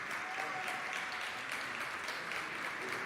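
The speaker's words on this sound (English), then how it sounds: "Please give a round of applause for Stephen and Jackie" Audience applause at the grand reopening of the Martin Luther King Jr. Park Pool, a steady, dense wash of many hands clapping that holds evenly for the whole stretch, with a faint tone threading through it.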